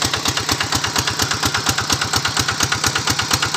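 A Kubota 11 HP diesel engine powering a 6-inch water pump runs at low RPM, a loud close-up steady thumping idle with evenly spaced beats and no talk.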